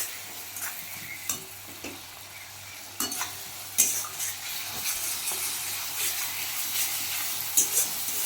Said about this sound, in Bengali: আদা রসুন আর কাঁচা লঙ্কা 2 চামচ, ছোটো চামচে 3 চামচ। দিয়ে আমি এটাকে একটু ভাজবো।